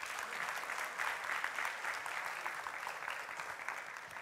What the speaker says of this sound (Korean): 나와주실 때 환영의 박수 부탁드릴게요